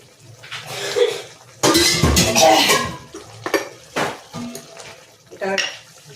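Potatoes tipped into a pan and fried in a little oil, heard as a loud clatter of metal utensils and sizzling bursts, with intermittent scraping and stirring knocks.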